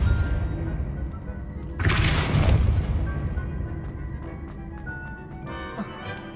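A Depulso spell blast in the Hogwarts Legacy video game lands as a sudden, loud booming burst that rolls off into a lingering rumble, set against ongoing in-game ambience and small chimes.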